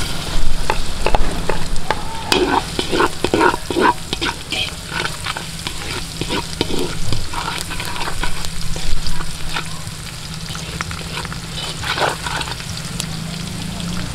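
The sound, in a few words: garlic frying in a pan for escabeche sauce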